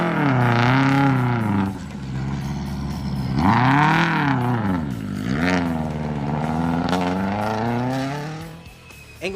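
A rally car at SOL Rally Barbados tearing down a straight, its engine loud and close, pitch climbing through gears, dipping and climbing again in sweeping revs before fading slightly at the end.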